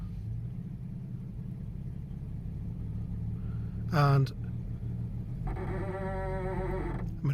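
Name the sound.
Jaguar XJ-S engine in drive against parking brake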